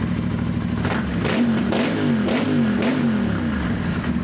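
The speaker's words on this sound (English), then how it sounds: "So I think we're good to like give it some nice revs." An Aprilia RS660 motorcycle fitted with an Arrow full titanium exhaust revs repeatedly from idle, several sharp rising and falling bursts over a steady idle, close and loud.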